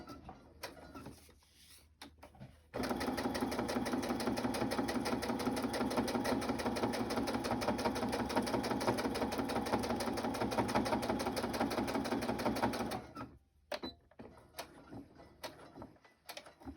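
Sewing machine stitching fabric side pockets runs in one long steady burst of rapid, even mechanical clatter, preceded and followed by short stops, handling noises and quieter moments.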